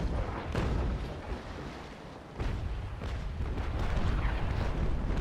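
Cannon broadsides firing chain shot during a naval battle in the game Naval Action, heavy booming blasts rolling one into another, loud and continuous with no pauses.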